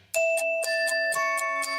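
A smart doorbell camera plays a ding-dong chime in a home security advertisement, a clear electronic tune of several quick bell-like strikes with ringing tones that sustain underneath, loud and close with no talking.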